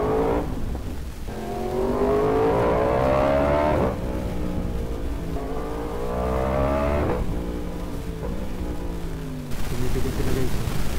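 A Yamaha R1 sport bike with a crossplane four-cylinder engine revs hard in several long rising pulls, near and loud, with gear-like drops between sweeps and a rough idle between.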